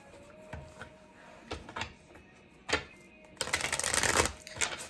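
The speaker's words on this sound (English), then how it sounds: "I'm going to shuffle a couple more times." Tarot cards being shuffled by hand: a few soft riffles and taps, then a longer, louder burst of rapid card flutter near the end, heard alone without speech.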